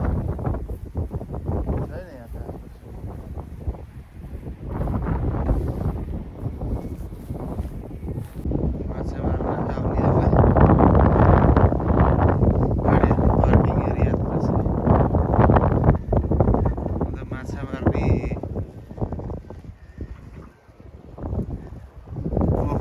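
Strong wind gusts across a microphone outdoors in Japan, with a low roaring rumble that swells and fades over about twenty seconds.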